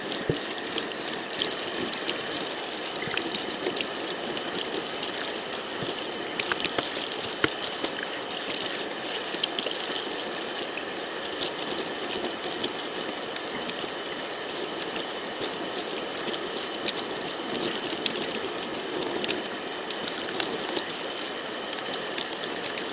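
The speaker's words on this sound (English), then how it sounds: "so let's go ahead and rinse this out." Running water pours steadily over ice-dyed tie-dye fabric being rinsed out, a continuous hissing splash with brief knocks and shifts partway through and no talking.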